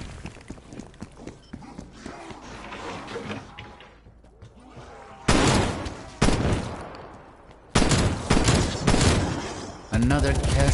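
Gunfire in the video game Zombies comes as repeated loud bursts of shots mixed with clattering hoofbeat-like thuds and running. Rapid shots and sudden loud blasts recur throughout, with voices talking partly over the action.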